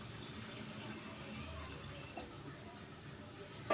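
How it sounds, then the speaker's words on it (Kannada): Water poured into a pot of tomato sambar, a steady soft splashing stream running a few seconds at moderate volume, with a brief louder knock at the end. "ಇವಾಗ ನೀರನ್ನ ಹಾಕ್ತಾಯಿದ್ದೀನಿ."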